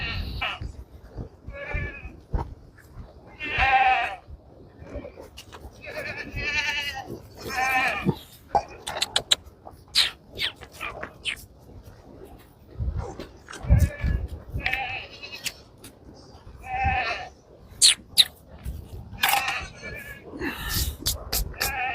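Goats at feeding time, given a feed of soybean and wheat mixed together, bleat repeatedly and loudly from close by in overlapping calls, with occasional crow caws and other farmyard sounds between them.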